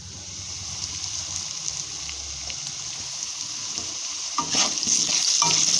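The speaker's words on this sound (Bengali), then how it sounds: "আলুটাকে একটু লাল করে ভেজে নেবো" Potatoes frying in a pan with salt, a steady close sizzle with occasional stirring scrapes, growing a little busier toward the end.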